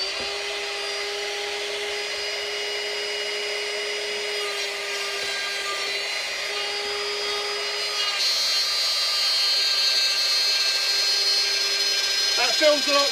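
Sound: Ryobi trim router cutting wood

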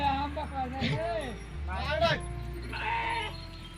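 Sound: goat bleating

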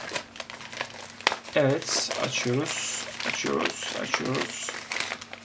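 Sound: opening a plastic-wrapped package from China

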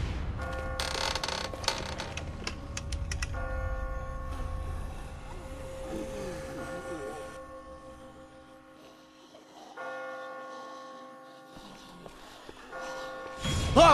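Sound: bells ringing in The Walking Dead video game

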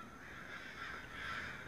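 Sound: crows cawing in Sinister Edge horror video game

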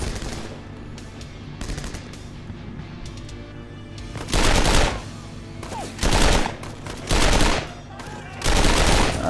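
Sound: MP40 submachine gun firing in video game 7554

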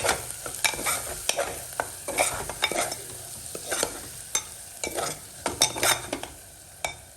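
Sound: stirring spiced chana dal in a pot

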